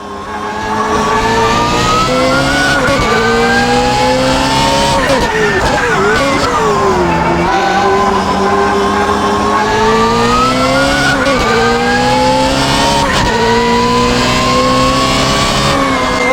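A BMW M3 GTR race car engine in Assetto Corsa on the Nordschleife roars loudly and continuously, revving up and down through gear shifts, with a harsh buzzing tone and no pauses.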